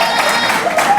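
Audience applauding with some cheering for nominee Margaret Johnson at an award nomination event, a steady burst of clapping from a crowd throughout.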